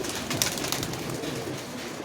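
Giribaz pigeons cooing nearby, soft repeated throaty calls over a noisy background hiss, fairly loud and close.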